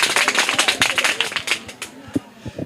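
Audience at a GK quiz competition claps for a contestant who is out of the game: a patter of scattered handclaps that comes and goes, with a few sharper claps near the end.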